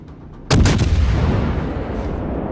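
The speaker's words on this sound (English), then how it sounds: "We're going to start laying down some fire on this New York" Naval gunfire in World of Warships: a sudden heavy broadside blast with a few rapid reports, followed by a long rolling boom that decays under steady ocean and engine rumble.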